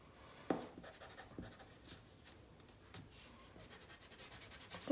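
Dark, smooth crayon coloring on paper for a tiger drawing: a steady, quiet waxy scratching and rubbing in repeated strokes, close up and fairly faint, with no talking.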